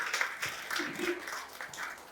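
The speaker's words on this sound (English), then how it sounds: "Please having a big round of applause for all the panelists here." Applause from a conference audience for a panel on carbon capture, utilization and storage, a few seconds of scattered, moderately loud clapping with some speech-like sounds mixed in.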